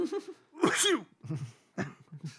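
A loud sneeze bursts out between bits of nearby talk, with a shorter cough-like burst following.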